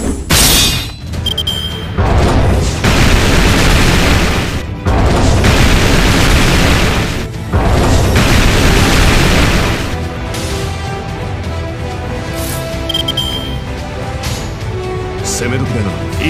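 Heavy booming explosions in the Fate/Grand Order battle against Talos, a series of loud, dense blasts in separate bursts over about ten seconds, then a quieter stretch under a voice.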